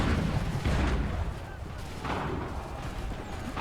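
Volleys of musket fire from soldiers in Assassin's Creed 3, heavy booming shots with rumbling low end, a loud burst at the start followed by further crackling reports.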